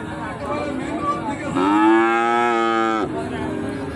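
A Holstein-Friesian cross cow at a livestock market lets out a single loud, drawn-out moo lasting over a second, set against a busy background of crowd noise and distant voices.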